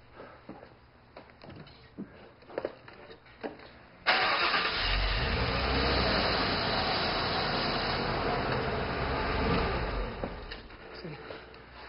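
A truck engine cranks and catches suddenly, then runs at a loud, steady idle for several seconds before easing slightly; faint movement and door sounds come before the start.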